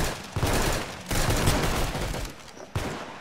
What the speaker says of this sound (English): I'm shooting people